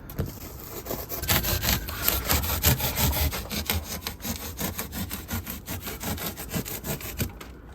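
A blade chops through foam board insulation during a subfloor install in a bus, with a steady run of rough, rhythmic sawing strokes, close and fairly loud.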